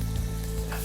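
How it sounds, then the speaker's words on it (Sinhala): Food sizzles as it fries in heated oil in a home kitchen, a brief, close, steady crackle with no talking. "රත් වෙන තෙලට දාලා බදින්නයි තියෙන්නේ"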